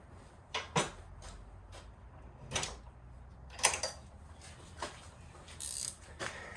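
Irregular creaks and clunks from a worn front anti-roll bar stabilizer link on a 2000 Volvo V40 automatic, several sharp squeaks spaced unevenly, close by, like an old door hinge.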